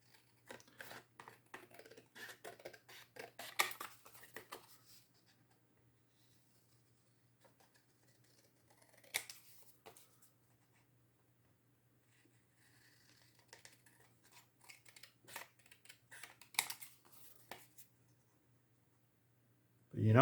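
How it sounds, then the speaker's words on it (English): Scissors snip through a paper journal card in a few short bursts of crisp clicking cuts, close and quiet, separated by longer pauses over a faint steady hum. "this is the main journal card that I just want to cut out"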